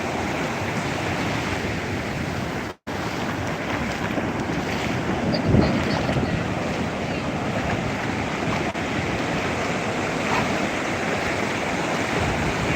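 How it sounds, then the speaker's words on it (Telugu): Ocean surf at Chinnaganjam beach rolls in as a continuous broad roar mixed with heavy wind buffeting the microphone, steady and loud throughout with a brief dropout early on. "ఇది మా చిన్నగంజం బీచ్ చాలా బాగుంటుందండి బీచ్ ప్రశాంతంగా ఉంటుంది"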